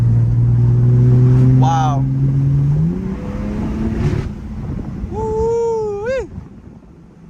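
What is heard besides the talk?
BMW F80 M3 car engine accelerating on canyon drive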